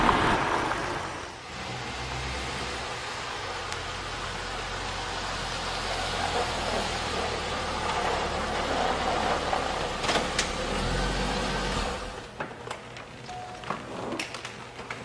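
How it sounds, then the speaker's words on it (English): A Chevrolet Corvette C5 V8 engine under way, a steady broad roar with road noise that swells and holds, then drops off sharply near the end as if lifting or shifting. "Listen to the sound of the engine, it's awesome."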